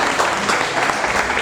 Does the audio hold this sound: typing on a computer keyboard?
no